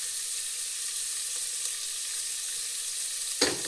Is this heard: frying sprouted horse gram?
yes